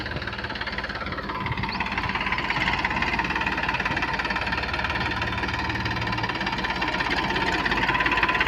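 A new tractor engine runs steadily on a wheat farm, a loud continuous mid-pitched knocking chug close by with constant vibration and no talking.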